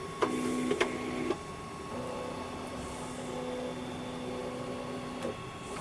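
A FlashForge AD5X 3D printer loading PLA filament: short stepper-motor whines and clicks, then a long steady motorized tone with a faint hum beneath, close and alone.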